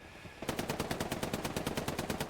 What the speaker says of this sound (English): we know how good these machine gunners are